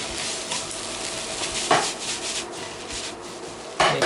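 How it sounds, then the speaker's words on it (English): Instant yakisoba noodles stirred in a hot pan, a steady scraping and rubbing of utensil against the pan with a faint sizzle, and two louder scrapes standing out near the start and end. "So you want to mix this up."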